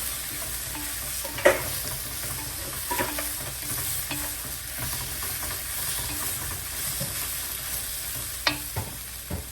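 Drumstick pieces and jackfruit seeds sauté in a pan for a dried fish curry, a steady sizzling hiss broken by a few sharp spoon scrapes and knocks against the pan.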